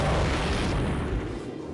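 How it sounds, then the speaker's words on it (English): A tank explodes in the shooter game Soldier of Fortune, a heavy booming blast that rumbles loud and low, then slowly fades. "we were shooting a tank in the toe until it exploded"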